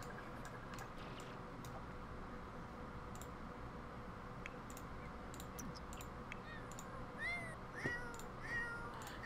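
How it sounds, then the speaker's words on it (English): A cat meows several times in a quiet indoor room at night, the calls moderately close and rising toward the end over a faint background hum, with occasional small clicks. "what is wrong with the cat?"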